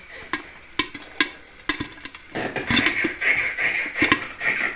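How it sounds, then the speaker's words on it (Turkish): Sharp popping corn kernels burst irregularly inside a covered stovetop pot, over a steady sizzling hiss that grows as the popping continues. "Şu mısırın patlamasına bayılıyorum arkadaşlar."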